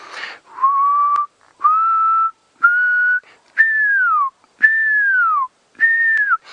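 A person whistles a series of six clear notes with pauses between them, the later ones sliding downward, imitating a pearl-spotted owl's call.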